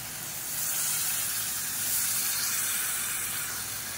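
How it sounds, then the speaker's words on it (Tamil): Water poured into a pan of sautéed masala with turmeric powder, giving a steady, fairly loud broadband sizzle and hiss that swells briefly around the middle and holds for the whole moment, with no talk. "இப்போ தேவையான அளவுக்கு இதில் தண்ணி சேர்த்துக்கலாம்"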